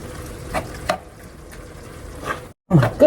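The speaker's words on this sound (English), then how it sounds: "we're going to give this a quick stir" Quick stirring of lasagna sauce with oregano in a pot, soft scraping and sizzling strokes at close range, with a brief pause before a final louder stir.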